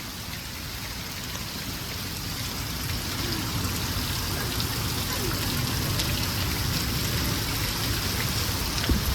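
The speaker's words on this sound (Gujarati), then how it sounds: "વરસાદ બહુ ભયંકર વરસાદ છે" Heavy monsoon rain pours steadily over a farmyard in Banaskantha, a dense, loud, continuous hiss of drops on surfaces with no break, close around and not masked by talk.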